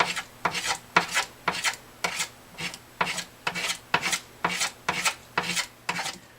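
Rubbing and polishing a Gibson Hummingbird pickguard with Simichrome metal polish, a close, rhythmic series of about a dozen back-and-forth scrubbing strokes, each a brief rasping swish, evenly spaced and alone without talk.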